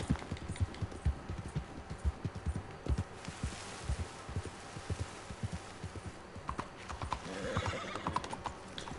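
Horse hooves clip-clop in an uneven walking rhythm while the horse whinnies loudly, from the video game Red Dead Redemption 2, with the steps close and clear throughout.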